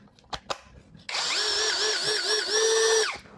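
A Huber HBD2116 Pro Gen2 21V brushless drill spins up and runs steadily for about two seconds as a high whine that wavers slightly in pitch, after a few soft handling clicks, then stops.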